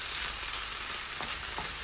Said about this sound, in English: So just saute that into the green seasoning.